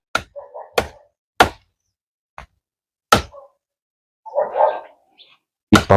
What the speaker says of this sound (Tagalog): Ay, apo dito yung aso